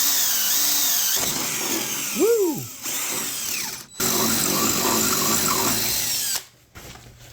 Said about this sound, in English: Do a little milling work with the side of a drill bit.